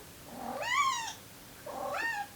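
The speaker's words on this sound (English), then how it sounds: "Okay, I guess I'm letting the cat out now." A house cat gives two clear, close meows about a second apart, each rising then falling, asking to be let out of a quiet room.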